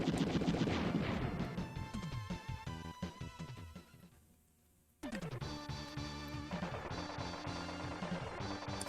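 Rapid gunfire and explosive bursts from the retro shooter Wild Guns, dense and loud, drop into a brief near-silence before the shooting resumes in full.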